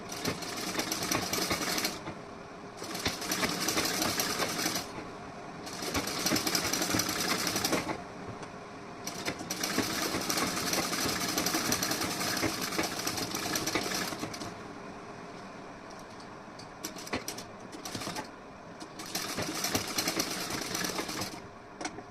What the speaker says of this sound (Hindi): यहाँ पे मैं पक्की सिलाई लगाऊंगी।